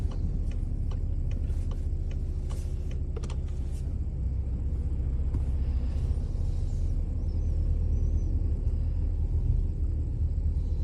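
A VW Passat with a 7-speed DSG gearbox pulling away from a stop, its engine giving a steady low rumble from inside the car with faint ticking and clicks over the drone.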